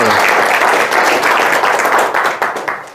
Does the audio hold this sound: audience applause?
yes